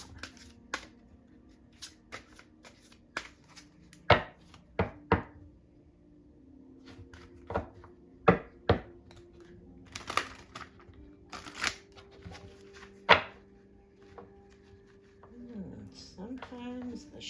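A deck of tarot cards is shuffled by hand in short, scattered riffles and taps, quiet and close, with soft talking at times.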